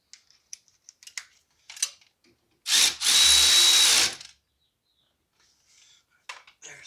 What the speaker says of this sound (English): You don't want to get it too tight, strip this bolt out, but you want it tight enough to where the bolt doesn't back off